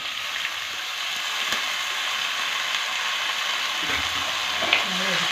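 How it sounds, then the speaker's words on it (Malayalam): Native beans dropped into a pan of fried onion and curry leaves, a steady soft sizzle of frying with faint stirring clicks near the end. "ഉള്ളിയും കറിവേപ്പിലയും മൂത്ത് കഴിയുമ്പോൾ നമ്മൾ നാടൻ പയർ ഇലയ്ക്ക് ഇട്ട് കൊടുക്കാം"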